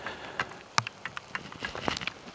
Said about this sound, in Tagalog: sana naririnig nyo yung patak ng ulan sa helmet